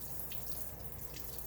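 Running tap water splashing steadily over Monstera plant leaves, a constant close hiss with no voices.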